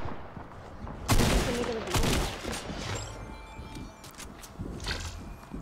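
Gunfire in Fortnite's John Wick's Bounty mode crackles in loud irregular bursts, with a heavy volley near the start and another about a second later, then scattered shots, some voices murmuring underneath.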